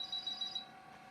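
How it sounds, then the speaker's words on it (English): Startup chime of a MiniPET computer: one thin, high, steady electronic tone held for about half a second, faint, then fading into a low background hum. "a chime."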